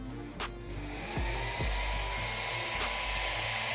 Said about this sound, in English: you see we got the fan going on the ESC. We got the fan going on the motor.